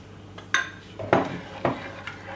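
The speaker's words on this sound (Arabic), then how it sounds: "ما نوقفوش على التحراك، نحركو" A spoon scrapes and taps inside a pot while egg yolk and milk cream are stirred over low heat for a tart, giving irregular clinks and scrapes over a faint background hum.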